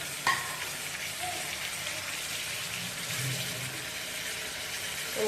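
Chopped onions, tomatoes and green chilies sizzle in a pan while being stirred, a steady close hiss of frying with a faint utensil tap at the start and small shifts as the mixture is turned.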